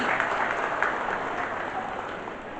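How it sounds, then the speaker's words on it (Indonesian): Applause from an audience welcoming an honored guest at a farmers' and fishers' association event at Taman Budaya Sentawar, Kutai Barat, steady crowd clapping that starts full and slowly fades, with no speech over it. "Tepuk tangan dulu buat beliau."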